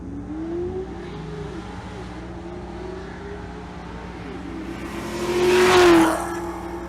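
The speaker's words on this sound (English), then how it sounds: "Left lane is Jacob Cryer with that 2017 Chevrolet SS." Drag race cars at a raceway in Monroe, a Chevrolet Silverado and a 2017 Chevrolet SS, roar with steady engine drone that swells into a loud, brief launch surge near the end.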